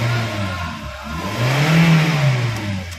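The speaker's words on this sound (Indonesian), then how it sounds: "berikut suara mesin Daihatsu Terios tipe TX tahun" A 2014 Daihatsu Terios TX 1.5 automatic engine runs close by, its low hum rising in a short rev and easing back, then settling into a steady idle.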